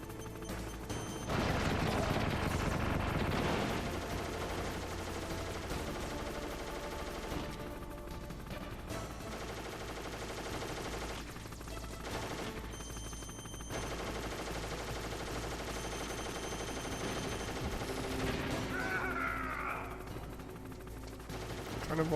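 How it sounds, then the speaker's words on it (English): Enemy strafing machine-gun fire in Metal Gear Solid, rapid bursts of gunfire rattling in and out over sustained game noise and music, loudest early on, with some quieter gaps. "Trying to avoid his strafing attacks is a bit annoying."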